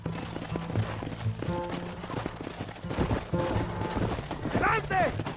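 Horse hooves clatter in a fast galloping rhythm in the Western video game Red Dead Redemption, mixed with shouting voices, music and scattered gunshots.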